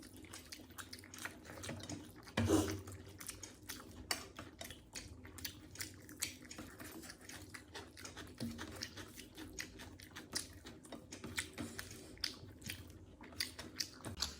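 Quiet chewing and biting while eating a home meal of fried rice, aloo paneer masala, chilli soya and salad, with soft mouth sounds and one louder bite or cutlery clink early on, steady throughout without talk.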